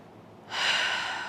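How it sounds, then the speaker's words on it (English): Sitali cooling breath, a long, steady hissing inhalation drawn in through the mouth at close range, rising abruptly after a brief quiet and holding for under a second. "This is called Sitali breath."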